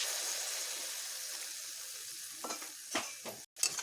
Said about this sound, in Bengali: এবার আমি একটু জল অ্যাড করছি